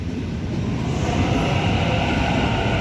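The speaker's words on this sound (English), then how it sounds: "here goes this City Circle service" A City Circle passenger train pulls out of Sydney's Central station with a loud, continuous rumble and hum of wheels and traction motors, swelling slightly as it moves off.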